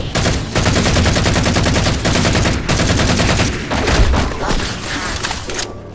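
Weapons in Halo 4 fire in sustained, rapid automatic bursts, loud and close, with thumping impacts layered throughout and a brief pause near the end.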